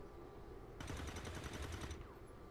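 Rapid automatic gunfire burst in XCOM 2, a single loud rattling string of shots lasting about a second, followed by a brief fading tail over a low ambient hum.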